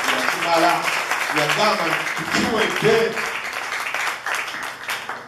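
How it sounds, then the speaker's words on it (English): During a Sunday church service, a congregation claps as a dense, steady wash of applause. Voices speak over it throughout. "Clap to the Lord because we have come to"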